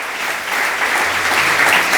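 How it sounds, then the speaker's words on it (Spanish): A church congregation applauds the Lord in a loud, dense, sustained burst of clapping that fills the room evenly, with no speech over it. "Denle un aplauso al Señor"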